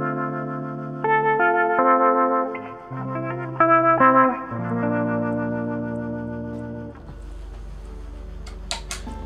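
A Fender Player II electric guitar through a Snazzy FX Tracer City effect gives a swirling, Leslie-like tone as chords and sustained notes play up close, fading to a low rumble near the end, with no talk.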